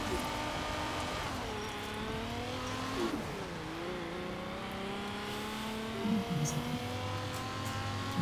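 A car engine revs and surges through gear changes in the racing video game Forza Horizon 4, with rising and falling engine tones and a brief tire-squeal moment, loud and continuous throughout.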